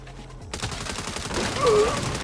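A short burst of rapid gunfire erupts in the Saints Row video game, loud and close, lasting about two seconds.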